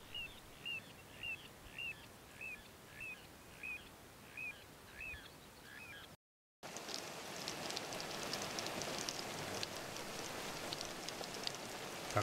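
Steady May thunderstorm rain pours down after a series of repeated bird calls; dense broadband hiss of heavy rainfall fills the second half, with no voices.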